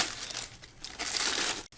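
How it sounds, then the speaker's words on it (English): Tissue paper rips and crinkles faintly during the unpacking of a Marvel Legends Deadpool and Hydra Bob two-pack figure, one brief papery tear with no talking. "Oops, I ripped the tissue paper in two."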